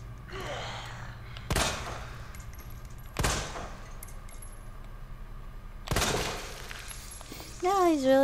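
Three sharp, loud gunshots ring out in Resident Evil 2 Remake, evenly spaced a second or two apart against a low ambient hum, followed by a short tonal game sound at the end.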